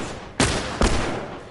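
Two loud gunshots in the video game The Last of Us, fired about half a second apart, each a sharp crack with a brief decaying tail.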